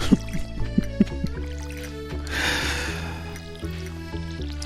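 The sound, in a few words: water dripping on ground, from a video game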